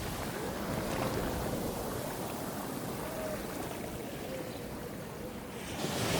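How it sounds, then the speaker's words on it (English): Ocean waves break and wash ashore at Kāʻanapali Beach, Maui, a loud continuous roar of surf with wind buffeting the microphone throughout. "That's a big wave."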